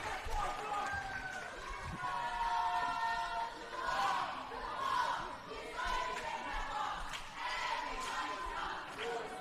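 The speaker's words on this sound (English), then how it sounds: "That crowd really is electric" Crowd noise at a girls varsity volleyball game in a gym, swelling waves of cheering and shouting with sneaker squeaks and thuds, mixed with close commentary voices talking over it.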